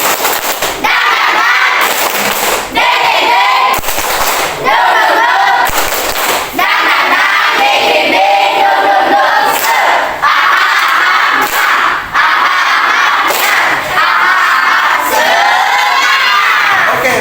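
School students in a classroom shout and clap together in a loud, spirited group cheer, with rhythmic clapping bursts and excited voices filling the whole stretch.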